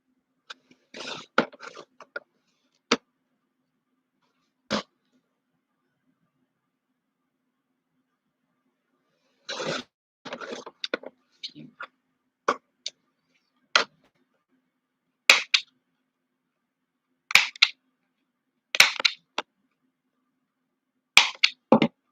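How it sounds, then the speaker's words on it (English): Scissors trim the borders off Druid Craft tarot cards in a quiet room: sharp, isolated snips and short bursts of cutting, spaced by long silent pauses. "I'm just really just trying to trim that border off."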